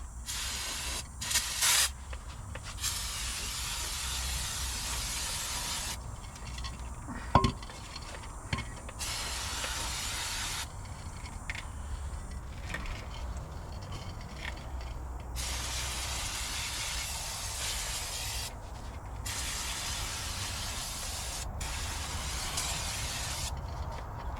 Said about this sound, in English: we can just kind of hit her with some brake cleaner